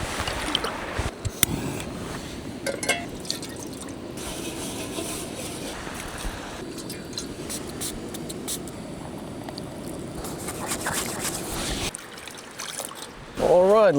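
Dishes are washed outdoors with water beside a camper van in northern Finland: trickling and splashing mixed with clinks and scrapes of utensils, continuous and close, then a sudden brief louder burst at the end.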